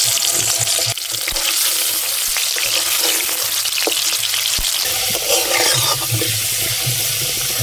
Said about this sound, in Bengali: এবারে আমি কড়াইয়ে তেল দিয়ে প্রথমে আলু ভেজে নেব